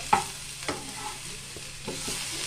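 Eggplant and ivy gourd cook in a pan for a chutney, with a soft steady sizzle and a few distinct clanks and scrapes from a stirring spoon.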